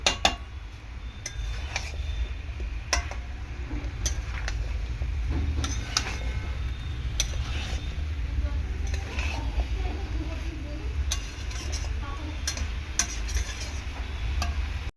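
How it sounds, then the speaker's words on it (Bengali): A pumpkin, potato and Malabar spinach curry stirred in a pan, with sharp intermittent spoon clinks and scrapes on metal over a faint continuous sizzle and low background hum. "ভালো করে তিন চার মিনিট মতো একটু নাড়াচাড়া করে নেব"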